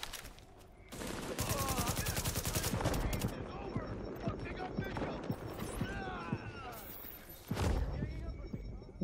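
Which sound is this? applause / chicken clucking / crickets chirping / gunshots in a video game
gunshots in a video game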